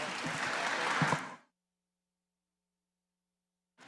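An audience at a zoning board of appeals meeting claps after an application is withdrawn, a burst of fairly close group applause lasting about a second and a half before cutting off into silence, then a faint sound returns at the end.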